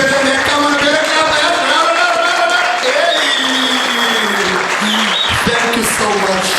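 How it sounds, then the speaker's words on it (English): Loud audience clapping at a book launch, mixed with cheering voices and what sounds like music or singing, the crowd noise continuous and close throughout. "I want you to give a 30-second clap right now to Miss Benita George."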